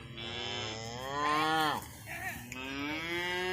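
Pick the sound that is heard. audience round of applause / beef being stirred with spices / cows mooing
cows mooing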